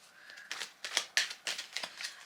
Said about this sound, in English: I'm going to do a bit of a shuffle